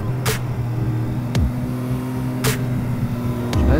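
A car engine drones steadily while driving in third gear, close and loud, with a few sharp clicks and bursts over the steady hum.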